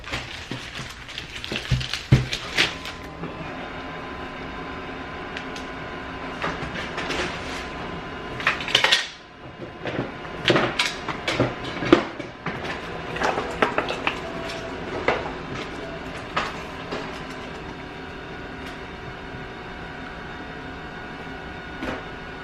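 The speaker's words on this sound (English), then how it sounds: "Let's print. And print. Make sure I'm at the right printer. I am not. Laser printer, print." A laser printer churns out shipping labels, a long mechanical run of whirring, rattling feed clicks and sharp paper clacks, close and steady with no speech.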